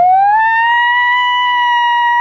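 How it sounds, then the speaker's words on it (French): Ambulance siren heard up close and loud as one steady wailing tone that rises and then holds, with no one speaking. "C'est l'ambulance. ça. It's the ambulance."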